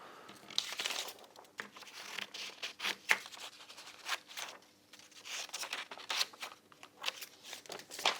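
Veneer sheets for a leather-and-wood bookmark being cut out by hand, giving soft intermittent crinkling and snipping scrapes in irregular bursts, close and fairly quiet with no talking.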